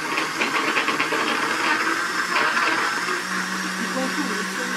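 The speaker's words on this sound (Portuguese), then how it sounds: "Não esqueça de colocar a tampa do liquidificador, hein?" A kitchen blender whirs steadily with its lid on as it mixes a paçoca milkshake, a loud, continuous churning roar filling the whole stretch close by.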